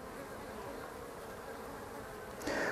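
Honeybees crowd a water point on a hot day, a steady dense buzzing hum, fairly faint, with a louder bee passing close near the end.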